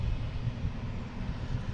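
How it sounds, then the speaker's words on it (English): A Gulfstream G650 jet arriving at Boston Logan International Airport produces a deep, steady rumbling roar, loud and continuous, with no talking over it. "We got a Gulfstream coming in"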